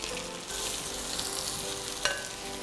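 Four medium onions, cut into small square pieces, sauté in a hot pan with a constant close sizzle and a faint stirring clink partway through. No one speaks.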